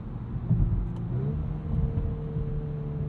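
A 2022 Volkswagen Golf R engine hums steadily from inside the cabin with a deep droning artificial exhaust tone piped in, shifting pitch once as it accelerates.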